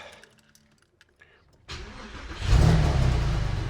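A car engine cranks and catches after a few quiet clicks, then settles into a loud, steady idle close by.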